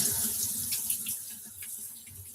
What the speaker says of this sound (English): I'll put the water on it.